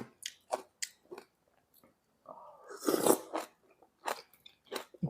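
Crunchy mountain shrimp bitten and chewed close to the mic, sharp crisp crunches in uneven bursts with a brief louder crackling chew in the middle, quiet gaps between bites.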